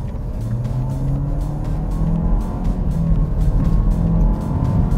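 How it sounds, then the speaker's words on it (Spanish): Renault Duster 4x2 with an automatic gearbox accelerating at full throttle from a 2000 RPM launch, giving a steady loud engine drone with a slowly rising pitch and no talking. "pongo la caja en D, revolución hasta 2000 RPM y piso a fondo"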